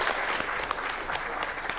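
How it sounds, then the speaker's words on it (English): Audience applause at a regional e-waste workshop's closing ceremony, a steady wash of many clapping hands throughout, moderately loud and continuous. "A round of applause."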